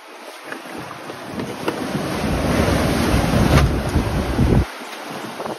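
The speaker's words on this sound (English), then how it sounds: "Maybe the wind will die down a little bit." Strong wind roars across a sailboat at night in a harbor, building into a loud gust with waves and hull noise before dropping off abruptly, no talking.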